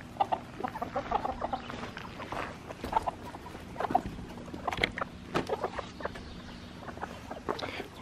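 Chickens clucking in and around a backyard chicken coop, with scattered short clucks and calls throughout, some near and some farther off, and no talking.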